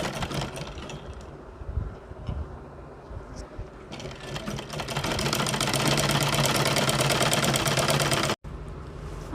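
Sewing machine stitching a kurti shoulder seam, a rapid mechanical rattle that runs at a moderate pace, then speeds up into a louder, denser whir before stopping abruptly and restarting.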